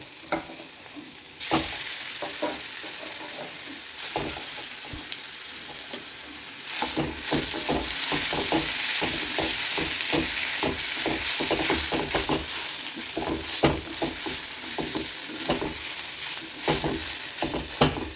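Close, continuous sizzling in a pan with repeated scraping strokes of a spoon stirring a thick mashed potato mixture, steady throughout.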